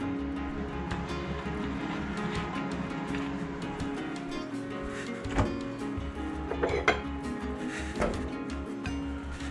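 Ceramic plates clink and clatter as they are handled, with a few sharper knocks among the steady kitchen hum and no talking.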